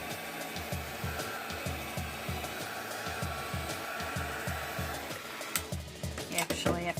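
A hair dryer runs steadily while drying a watercolor still-life painting of strawberries, its whir loud and close with a rhythmic pulsing, and brief clatter and shuffling near the end.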